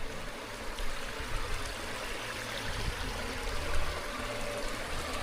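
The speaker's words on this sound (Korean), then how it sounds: "이쪽에도 또 물이 흐르고 있네요" Water flowing steadily through a small stream in the garden of a traditional Korean house, a continuous gentle trickle and babble heard up close with no voices.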